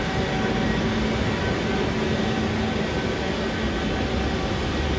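A Lima Metro Line 1 train pulls into Pumacahua station in the evening, a loud, steady rumble and rolling rail noise filling the platform with no voices.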